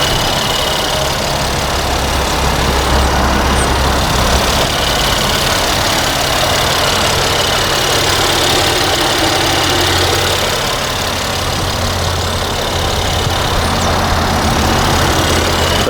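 A 2017 Mercedes-AMG GLC 43 with a 3-liter bi-turbo V6 idling close by, a steady loud low rumble with an even hum and slight knock that holds without pause, no voices over it.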